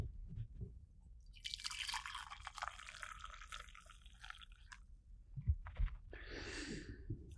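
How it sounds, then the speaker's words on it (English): Decaf coffee is poured close up in a quiet setting, a soft liquid trickle rising and falling over several seconds, with small clinks and handling noises near the end. "I brought some decaf coffee with me tonight. Let's pour it."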